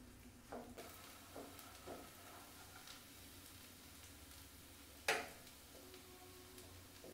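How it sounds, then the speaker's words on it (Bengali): Chopped cashews and raisins fry in ghee in a pan, a faint, steady sizzle under a few light clicks and taps of a spoon, with no voices. "এটা আমি একটুখানি ভেজে নেব।"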